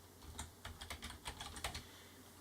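Quiet, fairly quick keystrokes on a computer keyboard type out a new file name, a run of soft irregular clicks that thins out toward the end.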